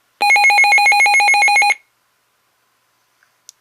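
A Midland WR400 weather radio sounds its alert test tone: a shrill, rapidly pulsing two-pitch electronic warble lasting about a second and a half, then stopping, followed by a couple of faint clicks.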